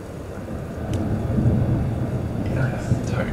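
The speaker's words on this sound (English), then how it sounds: "And rain starts to fall." A storm sound effect of steady broadband rain with a low rumbling thunder swell, loud and continuous, with faint chatter on top near the end.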